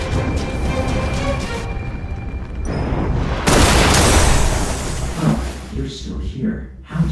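Gunfire and explosions in the video game Love and Deepspace: a loud, sustained burst of booming blasts and crackling rises mid-clip, then fades into scattered pops over dense background noise.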